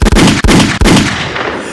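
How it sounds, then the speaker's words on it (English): Gunshot sound effect: three loud, close, booming shots in quick succession, each with a hard attack, followed by a fading echoing tail. "Gunshots."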